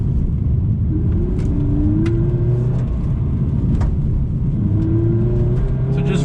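A 2020 Subaru BRZ tS engine drones steadily in second gear through tight turns, with rising revs on throttle, faint tire squeal and occasional clicks, heard from inside the car under light talk.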